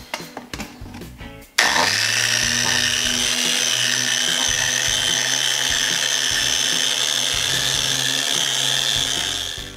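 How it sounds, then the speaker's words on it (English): A power sander with a grit sanding pad runs steadily against an interior trim panel, starting with a sharp onset after a few light knocks, then a constant close-up whirring grind that fades slightly at the end. "So, grab your panel and start sanding."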